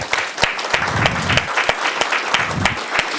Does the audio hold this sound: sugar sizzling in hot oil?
no